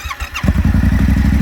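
A Yamaha Ténéré 700 motorcycle engine, already warm, catches after a brief starter whine and settles into a loud, steady idle right up close.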